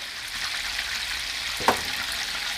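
Eggplant in a sauce with strained yogurt, olive oil and spices, stirred in a pan under a soft, steady sizzle, with a single clear scrape near the end.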